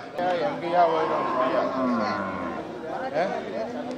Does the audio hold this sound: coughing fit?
no